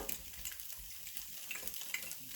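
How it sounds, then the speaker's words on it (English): Eggs are beaten for a ramen omelette, giving a quiet, fast run of whisking clicks and light scraping against the bowl that carries on evenly for a couple of seconds. "You don't want to beat your eggs too much"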